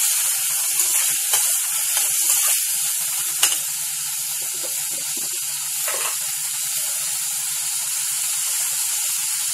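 Coconut pieces and other ingredients are sautéed in a pan for a colocasia leaf dish, producing a steady, fairly soft sizzle broken by occasional stirring clicks and scrapes.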